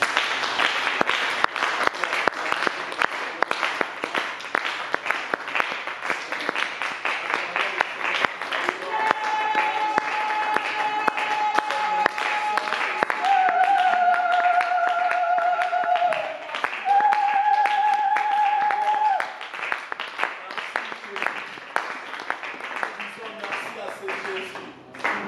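Audience applause at a French-language church gathering: sustained, steady clapping and acclaim from a crowd lasts throughout, with sustained tones playing midway and a voice speaking over it.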